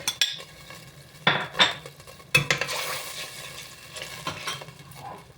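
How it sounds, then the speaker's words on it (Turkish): Chopped peppers sizzle and hiss in a hot pan, with a few sharp clatters of a utensil stirring and scraping, close and steady. "doğradığım biberleri artık atıyorum"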